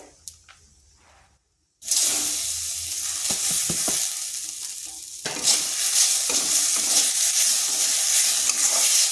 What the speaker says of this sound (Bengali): সুজিটা ভাজা হয়ে গেছে, এরপর দিয়ে দিচ্ছি সাবুর দানাগুলো